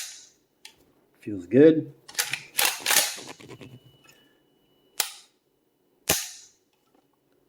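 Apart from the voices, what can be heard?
AK trigger clicking during function check, IWI Galil ACE rifle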